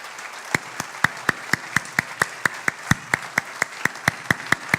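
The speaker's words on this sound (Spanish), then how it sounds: "Dale un aplauso bien fuerte al Señor" A church congregation claps in a steady, rhythmic beat, roughly four sharp claps per second, loud and even, with no talking over it.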